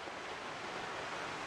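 Steady broadband rush of a waterfall in the video game Lost Ember, a dense continuous roar heard from close by for a brief moment with no voices over it.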